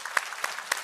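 Audience applause at a business forum in Toronto, heard as a short, quiet burst of clapping with a few sharper claps standing out, lasting under a second.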